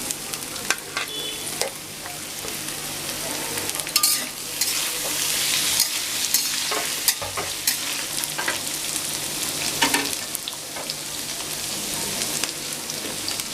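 Carrots, beans, capsicum and bell peppers stir-frying in a pan give off a dense, hissing sizzle with frequent scraping stirs, loud and close, swelling brighter midway, with no voices.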